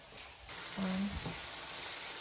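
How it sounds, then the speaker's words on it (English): Seasoning frying in a pan for Jamaican saltfish, a steady close crackling sizzle that holds evenly throughout, with a faint stir partway through. "I'm just gonna let it just fry down for a little bit"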